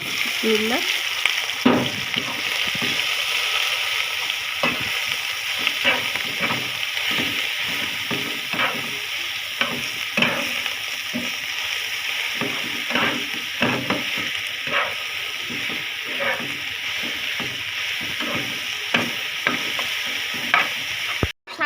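Leafy greens frying in a pan with onion and green chilli, a constant crackling sizzle with frequent rhythmic scraping and stirring strokes of a spatula, close and fairly loud, no voices.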